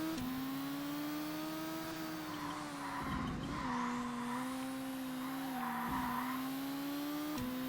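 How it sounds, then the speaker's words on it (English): A Seat Leon Supercopa racing car in ToCA Race Driver 2 goes into a handbrake turn, tires squealing in a long sustained skid over a steady droning engine tone that dips and recovers, loud and close, with no talking. "Handbrake it."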